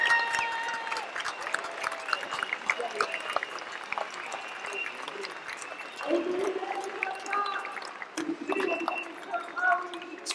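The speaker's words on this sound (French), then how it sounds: "Elle a dit applaudissons le professeur Raoult." A crowd at a street protest against the health pass on Place des Invalides in Paris claps steadily, a loud sustained patter of many hands, with voices and talk mixed in.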